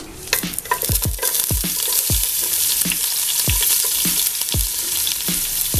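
Thin-sliced half of a medium onion frying in hot ghee in a pan for Kannur-style fried chicken dum biryani, a steady loud sizzle with repeated clattering stirs and scrapes, no talk.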